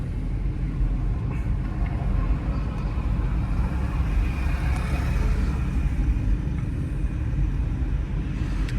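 Car in third gear at about 28 during a beginner driving lesson in Chandigarh, giving a steady low engine and road rumble from inside the cabin, continuous and even, with no talking.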